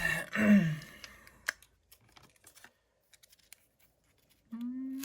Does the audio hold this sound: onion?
no